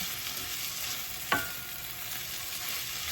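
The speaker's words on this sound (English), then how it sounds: "I put like half a can of the chickpeas there, and just cook it." Half a can of chickpeas with a splash of their canning liquid cooks in a pan, giving a steady, faint sizzle with one brief scrape of a utensil midway; no one speaks.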